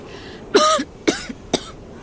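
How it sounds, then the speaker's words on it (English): Three sharp, loud coughs in quick succession, the first longest and the rest shorter, close to the listener, from a persistent cough. "this damn cough just won't quit."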